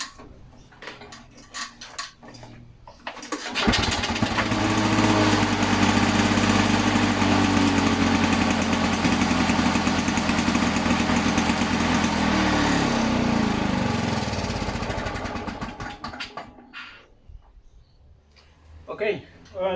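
A Victa LM G4 lawn mower engine with poppet valves roars steadily at high revs for about twelve seconds, loud and close, its strong hum holding even before it winds down and stops.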